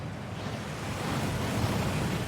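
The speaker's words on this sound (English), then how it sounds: "That waterfall washes away all enchantments." A waterfall inside Gringotts in the game Hogwarts Legacy gives off a steady, full rushing roar, broadband and unbroken, like heavy water pouring nearby.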